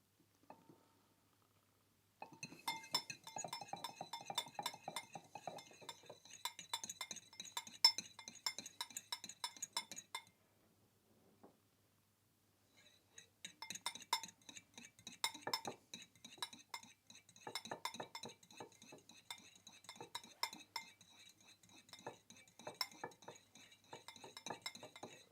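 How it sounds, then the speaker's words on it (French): A fork whisks sunflower oil energetically for steak tartare, rapid close metallic clinking against a bowl in fast bursts, pausing briefly midway before resuming. "il faudra fouetter avec la fourchette de façon énergique"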